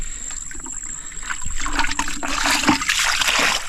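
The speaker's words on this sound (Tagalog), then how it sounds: "alam kong may umaagos na tubig sa lugar na ito" Water flowing and trickling steadily over a site near a lake, with splashy textures building and growing louder, no voices.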